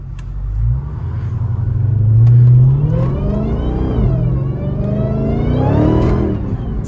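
Dodge Charger Hellcat accelerating hard from a stop on a straight road, a deep, loud engine roar that climbs through rising revs with a shift, then builds again to a strong peak before easing off, with no talking.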